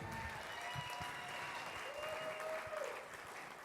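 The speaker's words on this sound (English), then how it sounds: "One more round of applause for all of our champions tonight." Sustained audience applause for the champions at the finals of an auctioneer contest, a steady wash of clapping from a crowd, heard at moderate distance with faint voices mixed in.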